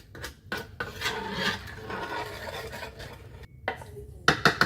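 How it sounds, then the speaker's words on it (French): A cake batter mixed in a bowl by hand, steady rasping and rubbing strokes of a spoon against the bowl, close and continuous with brief pauses and a few sharper scrapes near the end, no talking. "Je mélange bien là."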